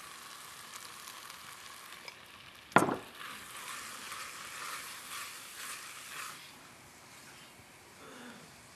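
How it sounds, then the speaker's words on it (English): Flour being stirred into a hot, smoky corn chowder base in a pot gives a faint, low hiss and soft scraping, with one distinct clunk of the spoon partway through, quiet and without talk. "Stir the flour around a minute so it doesn't taste like paste"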